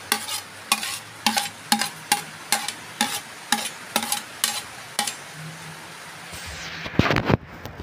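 Vegetables being stirred into pancit in a frying pan, a steady rhythmic scraping about every half second over sizzling, then ending in a few louder clatters; no talking.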